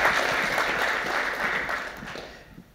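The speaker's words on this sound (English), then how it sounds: "you guys should get a round of applause for taking on XDP like this" A conference audience at a networking talk applauds, a steady wash of clapping from a seated crowd that gradually fades toward the end.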